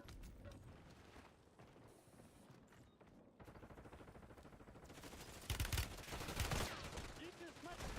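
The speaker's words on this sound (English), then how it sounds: "Changing mags." Magazine swap in a shooter game: metallic clicks and ratcheting mechanism sounds mixed with bursts of automatic gunfire, getting louder and busier toward the end.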